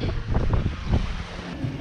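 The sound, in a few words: wind while sailing a boat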